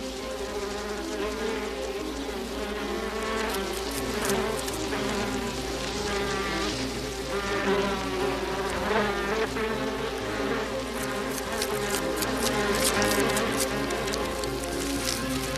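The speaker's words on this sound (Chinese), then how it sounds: "怎么突然飞来这么多蜜蜂啊？" A swarm of bees drones close by, a dense, continuous buzzing with overlapping wingbeat tones that swell and fade slightly, accompanied by a faint patter.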